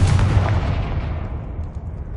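A Confringo spell blast in Hogwarts Legacy lands as a loud, deep booming explosion that rumbles and then decays away over about two seconds.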